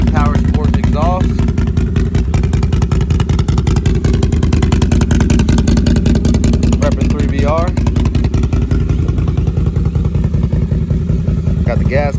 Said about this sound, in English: Got the RJWC Power Sports exhaust.